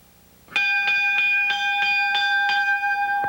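A wrestling ring bell at a 1986 CWA Memphis Championship Wrestling broadcast rings about eight times in a steady, bright, close series, each strike ringing on with sustained metallic overtones.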